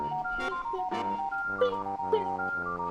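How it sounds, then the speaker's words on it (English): Don Corneo's villain theme from Final Fantasy VII plays as a bouncy, jingly tune of bright repeated notes over a steady bass pulse, in short stop-start phrases. "Don Corneo has one of the funniest villain songs I've ever heard composed."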